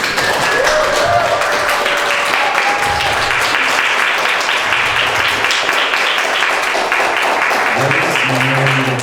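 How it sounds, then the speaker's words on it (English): An audience at a butoh ecology lecture breaks into loud, continuous applause for a guest speaker, a dense wash of clapping with faint voices and tones underneath. "Round of applause, please"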